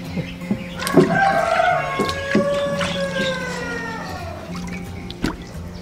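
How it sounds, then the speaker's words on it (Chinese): Several chickens in a neighbour's rural yard cluck and crow, a rooster's drawn-out call standing out clearly over steady background clucking, close and loud with a few sharp knocks. "所以养了好多鸡，每天出来院子叫个不停"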